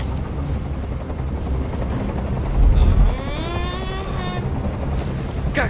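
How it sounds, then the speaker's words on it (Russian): Helicopter hovering in the video game Detroit: Become Human, a steady loud rotor drone with a heavy low thump swelling near the middle, while a rising and falling tonal sweep plays over it. "Как же меня бесит этот звук! Прикажи им, чтобы вертолет убрался."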